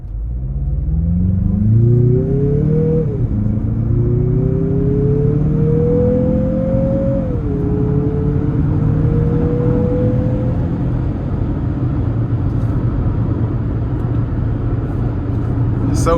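A 2025 Mazda CX-50 Meridian Edition engine accelerating hard from inside the cabin, its steady rising drone climbing through gear shifts with a brief dip at each change, over continuous road rumble.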